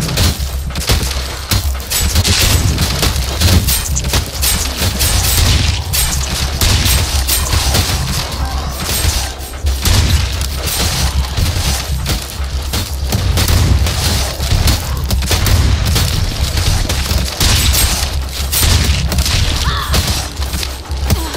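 Rapid shotgun blasts from the Night of the Dead zombie survival game keep going through the whole stretch, loud, dense and close, with booming thumps and no speech.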